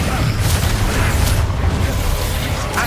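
A Bombarda explosion spell cast in the video game Hogwarts Legacy, a loud, dense blast of booming noise rumbling steadily through the whole moment.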